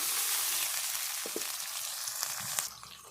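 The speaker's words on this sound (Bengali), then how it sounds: "এবার আমি মশলাটা ভালো করে কষিয়ে নেব" A paste of ginger, garlic and green chilli fries in a pan with salt, turmeric and chilli powder, giving a continuous, close bright sizzle, with a few light clicks and scrapes of stirring toward the end.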